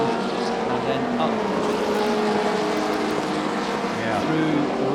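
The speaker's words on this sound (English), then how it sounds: "the leading car is slightly quicker on the straights, but Andrew Smith in the older car is slightly quicker in the corners" Historic Formula 2 race cars at The Classic 2021 driving on a wet track, engines droning and passing continuously with a commentator talking over them throughout.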